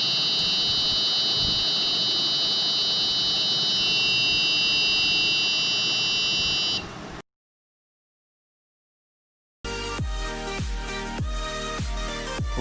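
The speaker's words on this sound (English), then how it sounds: "Alcohol present in the sanitizer, that's why the buzzer beeps." Buzzer on an Arduino alcohol detector with an MQ-3 sensor, set off by alcohol in hand sanitizer: a steady, loud, high electronic tone for about seven seconds, then silence, then unrelated music.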